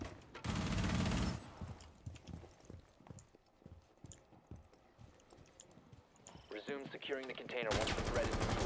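Gunfire from a Rainbow Six Siege ranked match: dense bursts of shots at the start and end, with scattered footsteps and clatter between and a voice speaking briefly near the end.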